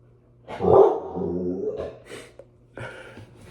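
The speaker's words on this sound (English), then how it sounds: "It's my dog. He's tripping out." A dog gives a loud close bark followed by a drawn-out whining yowl and a few softer yips indoors, heard alone before talk resumes.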